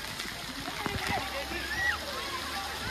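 Water splashing and sloshing at Atlantic Water World, a water park in Kalindi Kunj, Delhi NCR, with a continuous rushing wash and voices speaking over it.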